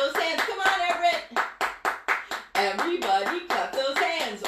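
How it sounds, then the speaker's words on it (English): A group claps hands in time to a children's music session, sharp rhythmic claps in bursts, close and fairly loud, mixed with singing. "Everybody clap those hands."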